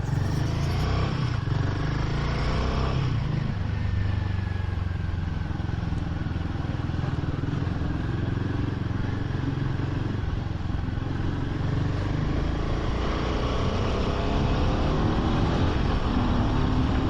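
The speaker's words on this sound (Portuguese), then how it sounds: "Nessa subida vamos dizer que a moto subiu com bem mais fôlego aí," A Royal Enfield Himalayan 450 motorcycle climbs uphill, its engine droning steadily and loudly under continuous wind rush, with no pause for the whole stretch.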